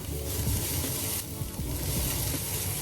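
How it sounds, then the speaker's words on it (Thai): Garlic and vegetables (carrot, onion, mushroom) stir-fry in coconut oil with a loud, steady sizzle, with scraping and clattering from stirring throughout. "แล้วก็ผัดกระเทียมแล้วก็ผักด้วยก ันค่ะ"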